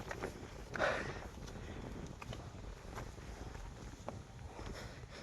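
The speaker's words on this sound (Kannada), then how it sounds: "ಬಟ್ ಗಾಳಿ ಜಾಸ್ತಿ ಇದೆ." Strong wind buffets the microphone on a rocky hilltop at Ambaji Durga Hills in Kolar, a continuous low rumble with gusts and faint rustling and steps, no voice heard.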